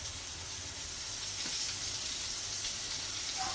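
Lobster and fish frying in oil, a steady close sizzle and hiss with faint bubbling throughout and no talking.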